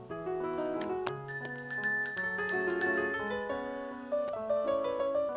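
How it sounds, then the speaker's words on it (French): A small bell hanging from a cord rings in quick bright dings, several strikes overlapping in a clear, close, ringing sequence with no voices. "cloche."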